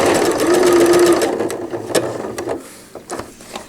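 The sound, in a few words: sewing machine stitching a cloth diaper cover around a curve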